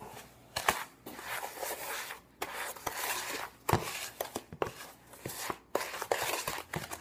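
Butter and sugar are creamed together for red velvet cake batter, heard as a close run of irregular scraping and tapping knocks in a bowl, no one speaking.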